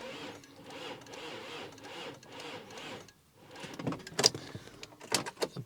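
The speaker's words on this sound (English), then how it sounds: "we're going to go for a crank, see what happens." A broken Volkswagen Touareg's starter cranking the engine in a pub car park: a quiet, even run of repeated mechanical pulses, then a pause and a few sharp clicks and knocks, with no clear catch.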